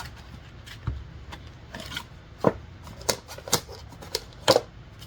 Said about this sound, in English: Let me do some little shuffles